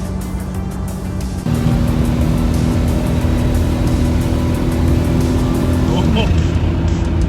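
A GMC Typhoon truck's engine roars steadily at full speed, a loud continuous drone with a rising tone that holds and then drops near the end, with road noise and a voice talking over it.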